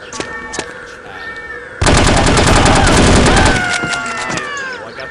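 Sustained burst of AK rifle fire in the video game No One Lives Forever, a loud rapid automatic rattle lasting about two seconds amid game sounds.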